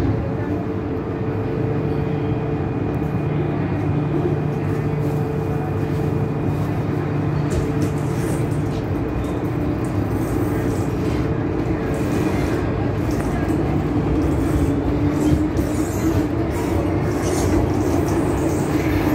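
A Hong Kong train runs between stations on the stretch toward Sai Wan Ho, a continuous loud rumble and hum from inside the car with no letup.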